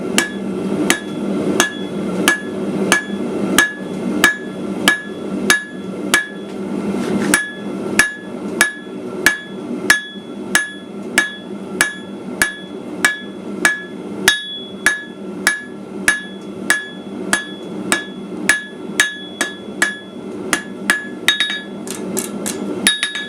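Steady, rhythmic hammer blows ring on a steel anvil as a holly leaf blank is forged to a taper, dozens of sharp metallic strikes with bright clinking overtones, close and loud, no talking.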